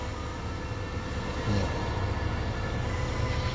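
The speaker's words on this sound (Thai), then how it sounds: "ฟังเสียงเครื่องนะฮะ" A Kobelco SK70SR-2 excavator engine idles in a constant low rumble with a steady mechanical drone.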